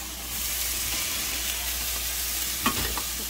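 Garnish for noodle soup stir-frying in a pan, a soft continuous sizzle with light scraping of stirring, a brief clatter near the end, and no talking.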